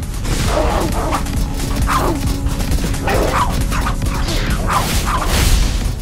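A Tosa dog in the video game Tokyo Jungle barks and yips repeatedly, with several sharp calls spaced across a steady background of game noise.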